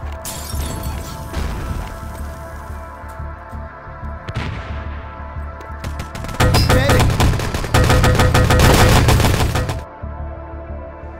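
Wolfenstein: Enemy Territory match with loud, dense bursts of gunfire and crashing impacts, an approaching enemy and weapon switching buried in the near-constant rapid shooting.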